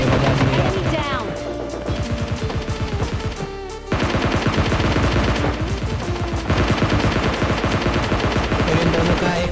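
Gunfire in the video game PUBG, loud and dense rapid-fire bursts with sharp repeated shots, briefly dropping out before resuming at full intensity.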